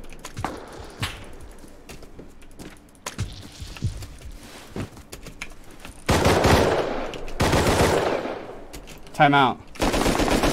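AK rifle fire in the survival game Rust, with scattered single shots followed by loud sustained automatic bursts, close and harsh, and a short spoken remark partway through.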